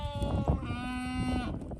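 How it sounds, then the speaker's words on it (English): Pregnant goats on a farm bleating, one long wavering bleat close by with other animal noise faintly behind it. "The goats are being needy right now. They need attention."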